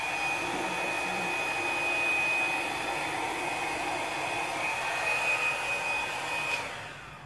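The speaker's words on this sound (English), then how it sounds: "we're gonna torch this once again" A blowtorch burns with a steady, close, roaring hiss that holds evenly for several seconds and then tails off as it is shut down near the end.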